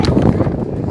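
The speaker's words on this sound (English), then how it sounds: "Very, very windy." Strong wind buffeting a microphone outdoors at an athlete camp, a loud continuous low rumbling roar with gusty surges, close and unbroken, no talk.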